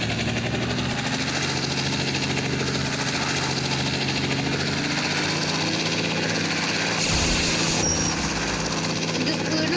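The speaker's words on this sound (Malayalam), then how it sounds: "ഹെലികോപ്റ്റർ" A video-game helicopter gives off a continuous whirring, droning rotor hum, even and fairly close, with a brief brighter burst near the end and voices faintly present underneath.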